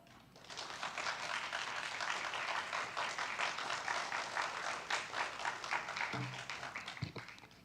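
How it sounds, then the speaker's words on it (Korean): A church congregation claps in welcome for the pastor at a Friday service, a full, steady applause that swells briefly and tapers off near the end with a few scattered thuds. "우리 박수로 한번 환영하고 말씀 듣도록 하겠습니다"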